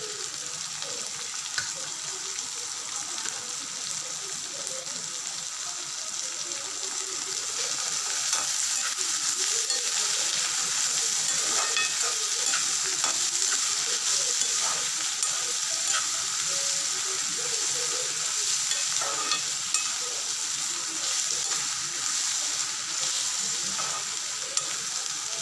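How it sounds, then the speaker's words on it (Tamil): Onions, chilli and coriander stems fry in a pan for a mushroom gravy, giving a steady, close hiss and crackle that grows a little louder partway through and carries on alone, with no talk. "ஆனியன் நல்லா ப்ரௌனாக ஆகட்டுங்க"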